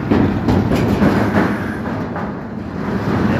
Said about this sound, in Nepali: दरर एउटा गाडी हिँड्दाखेरि यस्तो हुन्छ।